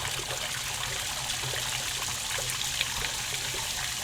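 Water runs steadily into a 160-quart pot, filling it about a quarter full (roughly 10 gallons) for boiling shrimp; a constant, close trickling rush with no break, no talk.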